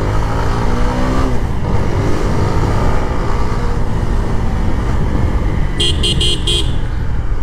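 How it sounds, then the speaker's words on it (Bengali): A motorbike engine runs loud and close with a steady rough drone throughout, and a short series of horn toots sounds near the end. "বাইকের কি সাউন্ড রে ভাইয়া।"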